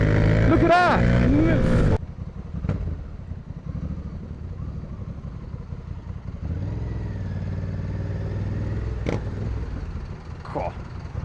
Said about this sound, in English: Whoa, this bike is rapid.